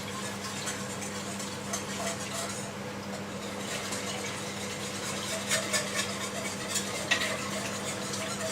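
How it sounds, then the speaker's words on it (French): Pasta bake mixture with bacon and sweetcorn is stirred in a pan, giving a steady soft scraping and sizzling texture with light utensil clinks against the pan, no talking. "Make sure it's all mixed together and doesn't stick."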